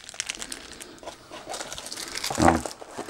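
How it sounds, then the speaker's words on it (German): A plastic bag that held a USB cable, from a dashcam unboxing, crinkles and rustles in quick handling bursts close to the mic, with a louder crunch near the end. "das ist ja eigentlich die Tüte von dem USB-Kabel"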